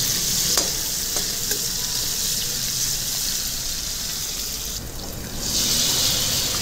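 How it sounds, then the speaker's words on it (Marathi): Chopped garlic and green chillies frying in hot oil give a steady close sizzle with soft stirring, and a brief louder hiss surges near the end; no one speaks. "एक 4 ते 5 हिरव्या मिरच्या त्या देखील अशा बारीक चिरून त्याला फ्राय करून घ्यायचे।"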